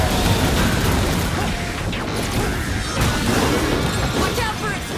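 Loud, dense crashing and booming from explosions in the action game Astral Chain, a continuous barrage of blasts and impacts with clattering mechanical noise throughout.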